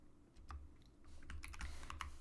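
Quiet computer keyboard typing, a quick irregular run of soft key clicks as a networking command is entered at a command line, close and alone.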